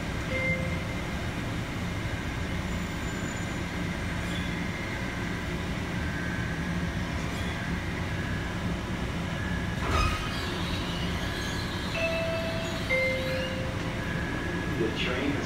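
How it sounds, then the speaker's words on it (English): Airport terminal train arriving at Houston IAH, a steady loud rail rumble with wheel squeals and faint tonal whines running throughout, with a sharp clank near the middle. "The train has arrived at Terminal B."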